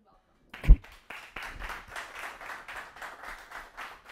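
A live audience at a public speaking event claps for the speaker Raul, a steady mid-level patter of applause that starts with a sharp knock and carries on for several seconds.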